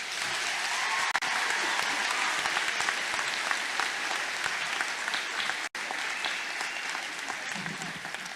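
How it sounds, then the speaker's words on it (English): Sustained applause from a crowd at an 8th grade promotion ceremony, steady and dense throughout with a brief dip near the end. "let's give her another round of applause"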